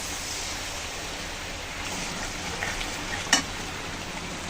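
Spice paste added to lightly fried onion and garlic in a pan, giving a steady close sizzle with stirring and a brief sharp crackle near the end.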